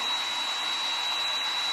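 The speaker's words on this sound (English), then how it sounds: "Let me go ahead and dry this paint so we don't get it on our napkin." A hair dryer blows steadily to dry paint on a small craft statue, making a continuous, loud, close whooshing drone with a thin high whine and no talk.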